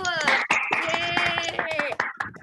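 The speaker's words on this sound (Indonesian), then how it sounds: "Ayo kasih tepuk tangan buat Samsul." A crowd of high school students claps and cheers together, a bright, busy burst of applause with voices calling out over it, sustained for a couple of seconds.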